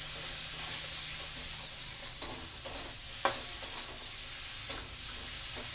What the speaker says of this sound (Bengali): এবার হলুদ দিয়ে দেব, দিয়ে নাড়াচাড়া করে